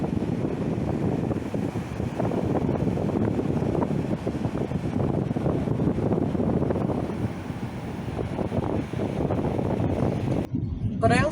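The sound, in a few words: ambient outdoor sounds of Padre Island, Gulf of Mexico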